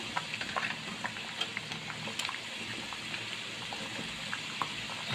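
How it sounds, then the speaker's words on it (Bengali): Taro curry simmering in a pan as fried tengra fish is added, with a soft continuous bubbling and sizzle punctuated by light pops and small stirring sounds, fairly quiet and close. "মাছটা আমি দিয়ে দিব এখানে, ট্যাংরা মাছগুলা"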